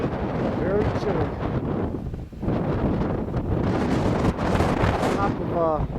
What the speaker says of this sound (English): It's mighty windy, very chilly.